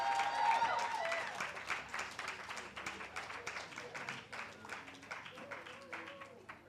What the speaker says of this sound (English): give him a hearty, hearty round of applause